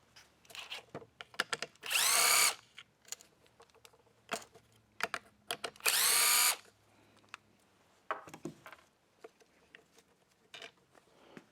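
A power drill unscrews hardware on the outer case of a Husqvarna blower during a teardown, giving two loud whirring bursts of about a second each between close clinks and handling noises.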